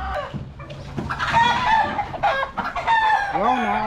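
A roundhead rooster crows close by amid chicken clucking, the crow ending in a drawn-out wavering call.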